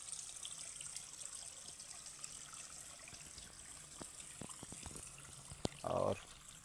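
Water trickles in a dense Jharkhand forest, a steady faint wash with a short louder splash near the end, alone without talk.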